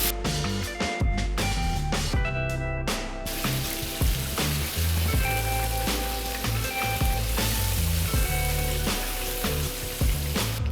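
Lamb sears in oil in a hot pan, a loud, dense sizzle with crackling spits and pops close up. Sharp clatters of the meat or pan punctuate the first few seconds, and no one speaks.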